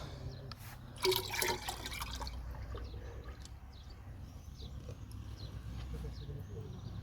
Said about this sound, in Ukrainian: Я взяла 9 літрів води, літру збродженої трави. Я сюди вливаю